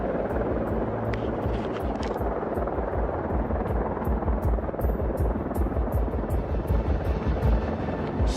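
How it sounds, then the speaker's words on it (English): An Apache helicopter flies overhead with a steady, throbbing rotor thump and engine hum, loud and continuous throughout, with no voices. "Another Apache helicopter comes in."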